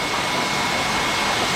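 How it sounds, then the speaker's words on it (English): A pressure washer rinses the hood of an MK3 Golf, a loud steady broadband spray hiss that runs unbroken and close throughout. "Now we're gonna go ahead and get the pressure washer out and rinse everything off"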